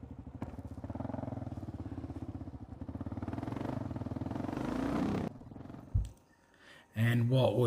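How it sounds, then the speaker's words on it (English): A motorcycle engine roars loudly and steadily with a rough pulsing throb as the rider pulls a wheel stand on a mountain road, then cuts off abruptly; a voice and clatter follow. "what would be a motorcycle video without a wheel stand?"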